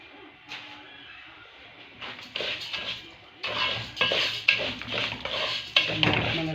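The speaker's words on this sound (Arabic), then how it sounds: "بحط الاول شويه رز كده" Rice is poured into a pot in a home kitchen, producing close clattering and rattling bursts of grains against metal that come in uneven surges and grow louder toward the end.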